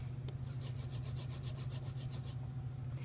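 A sticky, tacky rasp of an inked brayer for gyotaku fish printing repeats in quick even strokes over a low steady hum, close and fairly loud, with no talking.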